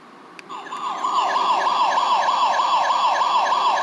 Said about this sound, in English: This little horn noise device